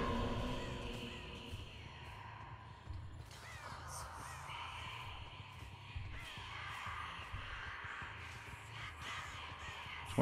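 Crows caw repeatedly in Dead by Daylight, harsh calls scattered over a low ambient game rumble, fairly faint overall with no talking.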